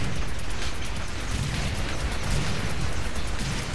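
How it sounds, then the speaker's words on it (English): Mortar fire in the tower-defense shooter Sanctum: a dense, continuous rumble of booming explosions, loud and steady with no pauses, with no talk over it. "Come on, stupid mortar, do your job."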